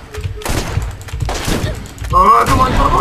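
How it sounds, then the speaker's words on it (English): Shotgun fire in the game Borderlands, a rapid series of heavy booming blasts and thuds with clattering impacts, loud and close, mixed with game noise. "the shotgun is really overpowered, and I missed a couple of my first shots"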